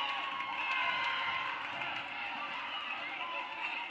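Crowd noise at a boys basketball game, Floyd Central, a steady roar of cheering fans filling the gym throughout, with sneaker squeaks and running footsteps on the court and a commentator's voice in the mix.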